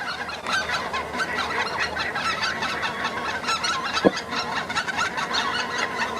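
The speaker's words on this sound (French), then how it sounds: "des milliers et des milliers d'oies me survolent ou passent à l'horizon." A dense flock of geese honks and clucks continuously, many overlapping calls filling the air at moderate distance, with one brief sharper sound partway through.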